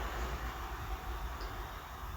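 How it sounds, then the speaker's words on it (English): A passenger train rumbles past in a steady, continuous wash of low roar and hiss, close and loud, with no individual clatter or whistle standing out. "Choo-choo, Gordon said. Passenger train coming through."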